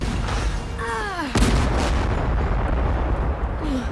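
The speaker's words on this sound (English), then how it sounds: "Jed fires one of those fancy exploding cannonballs at Sam" A cannon fires an exploding cannonball in a 1996 horror film scene: a sudden loud boom and blast that rolls into a sustained roar, following a brief descending whistle-like tone beforehand.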